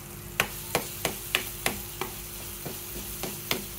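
Ground spice paste for Indonesian gulai sizzles in a hot pan while a utensil scrapes and taps at a steady rhythm, about three strokes per second.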